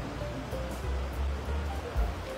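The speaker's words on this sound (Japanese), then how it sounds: "もうすぐそこには川が流れてて意外と涼しいです" A river flowing close by along a wooded Karuizawa path, a steady rushing wash of water that stays even and continuous, moderately loud, with no voices.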